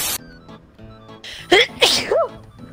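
A single sharp, loud sneeze bursts out close to the microphone amid quieter background sounds and brief voices, followed by a short vocal trailing sound.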